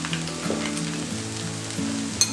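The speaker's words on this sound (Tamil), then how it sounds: "இந்த ஸ்டேஜில் நம்ம கட் பண்ணி வச்ச இந்த பிரெட்டை இதில் சேர்த்துடலாம்." Cut bread pieces go into a pan of frying egg for a masala bread scramble and are stirred, giving a steady close sizzle with light stirring scrapes and a brief clatter near the end.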